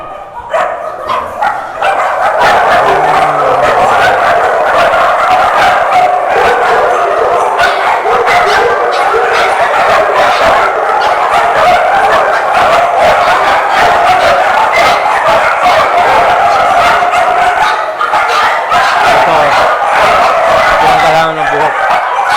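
A dense, continuous chorus of many large-breed dogs, including Akitas, barks, yips and whimpers at a kennel farm, loud and overlapping throughout, with people talking underneath.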